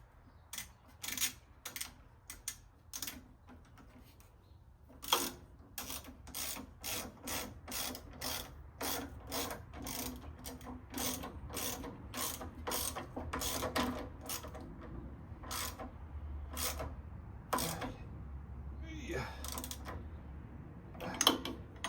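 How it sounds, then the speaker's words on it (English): A ratchet wrench clicks steadily while turning a 13 mm nut during the engine assembly of a Volkswagen air compressor build, giving quick bursts of close, crisp pawl clicks with short pauses between strokes. "I think that's a 13 mil with a nut underneath, so you will need a wrench."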